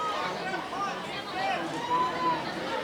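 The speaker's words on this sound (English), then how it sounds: "Great crowd here at Civic Field" Steady crowd chatter and babble fills the stands at Civic Field during a Sequim versus Port Angeles high school football rivalry game in 2004, a continuous mid-level hubbub without distinct cheers.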